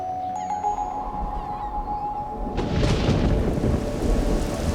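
A violent thunderstorm over Catalonia: a loud, rumbling crack of thunder breaks in midway over a steady wash of heavy rain, which keeps pouring as the rumble rolls on.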